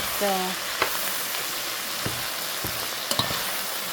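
A spoon scrapes and knocks inside a pot of food as it is stirred, with scattered sharp clicks over a faint sizzle and a short tonal sound near the start.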